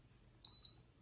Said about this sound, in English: It should say 5:55, and then it should give, basically give 12 beeps